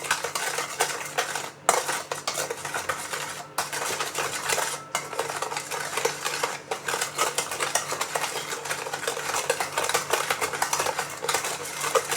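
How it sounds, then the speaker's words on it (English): A metal spoon scrapes and clinks against a pan while stirring and pressing a thick bean curd mixture for deep-fried pork belly, a busy continuous clatter broken by a few brief pauses. "Use a spoon to press it, yeah, and keep on stirring like this."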